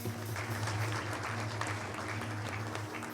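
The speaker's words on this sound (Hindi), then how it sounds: "एक जोरदार ताली बजा दीजिए उन बच्चों के लिए।" An audience claps for children who performed a drama about Mohini and Bhasmasur at a Nawmi celebration in Bel Air Rivière, a steady, dense round of applause with a low hum beneath it.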